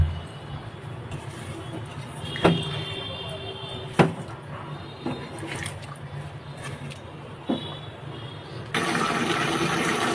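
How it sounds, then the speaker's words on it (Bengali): Water is poured into a pan of eggplant and chepa dried fish curry, a steady hiss broken by a few sharp clicks, with the pouring growing louder and fuller near the end. "আমি এখানে একটু জল দিয়ে দিব জল দিয়ে ভালো করে তরকারিটা রান্না করে নিব"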